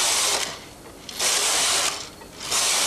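A Brother knitting machine carriage is pushed across the needle bed knitting hem rows, loud rasping mechanical sweeps repeating in three passes with short quieter pauses between.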